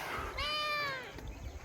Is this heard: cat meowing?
yes